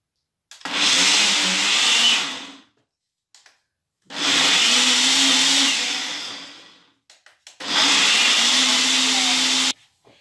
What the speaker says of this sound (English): Now I'm going to pop this in the blender. This is going to be noisy